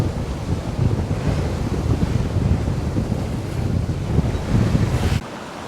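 Steady rush of wind and breaking water against a sailboat hull in a 13 to 14 knot west wind on the Atlantic, continuous and fairly loud, with gusty noise buffeting the microphone until it drops off near the end.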